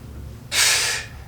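A single short, sharp exhale, close and fairly loud, lasting about half a second during a beginner home bootcamp workout set, with no talk.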